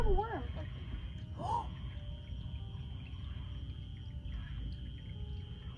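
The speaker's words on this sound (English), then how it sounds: "it shows the call of a siren being heard" Eerie, high warbling calls with sliding pitch, two short bursts early on, over a steady low rumble and hiss, faint and distant-sounding.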